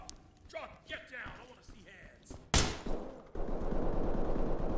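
Gunfire in the tactical shooter game Ready or Not, a sudden loud sharp shot followed by a few fainter bangs, then a steady rough rumble, after people talk at the start.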